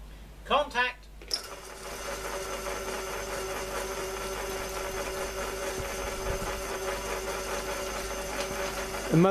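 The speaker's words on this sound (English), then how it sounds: "that drill is going round mighty slowly" Ultra slow speed pillar drill converted to a big multi V belt drive, powered by a 3/4 horsepower motor, running with a steady mechanical whirr and faint rhythmic ticking after a short burst of speech and a switch-on.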